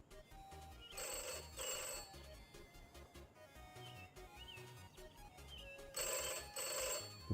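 A telephone rings in the Atari-themed video game Pixel Ripped 1978 with two bright, loud bursts of rings, one near the start and one near the end, separated by quieter game background.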